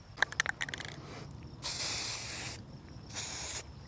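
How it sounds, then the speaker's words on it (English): Aerosol spray paint hissing onto dry allium seed heads in a garden, starting with a few quick rattling clicks of the can, then two sustained bursts of spray with a short pause between them. "I have spray painted these seed heads"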